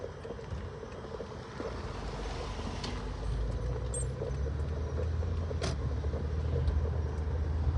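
A car drives past nearby on a street, its tire and engine rumble swelling gradually and steadily, with no voices.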